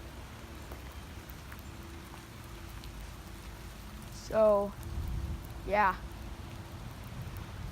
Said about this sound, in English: Yep, so I'm walking in the rain.